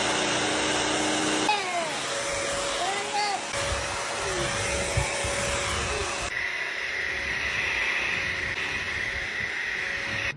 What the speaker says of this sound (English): We use the BISSELL CROSSWAVE HydroSteam.